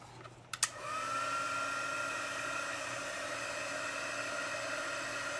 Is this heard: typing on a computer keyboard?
no